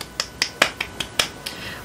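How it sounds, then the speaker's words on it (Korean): One person claps near the microphone in a quiet indoor room, about eight crisp, evenly spaced claps in a quick, steady rhythm. "일단 박수!"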